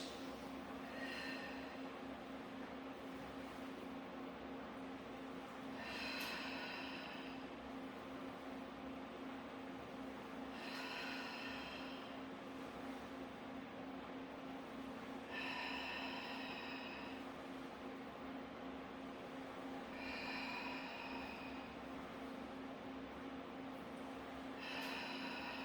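A Pilates reformer carriage rolls out and back as the legs press away with feet in the straps, a soft rolling whoosh repeating about every five seconds over a steady low hum, with no talking.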